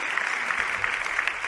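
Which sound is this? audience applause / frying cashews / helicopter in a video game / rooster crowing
audience applause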